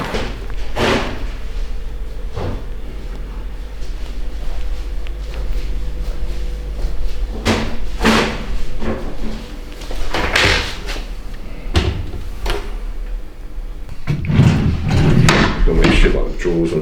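Kitchen drawers and cupboard doors open and shut in quick succession, with a run of close wooden thumps, slides and knocks spread across the stretch, and people talk in the background.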